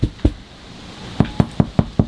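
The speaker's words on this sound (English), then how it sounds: "you can knock on it. It's just rigid." Knuckles knock on ice-coated rigid greenhouse plastic in winter, two hard raps, a pause, then five quick evenly spaced knocks, close and dull with a hollow thud.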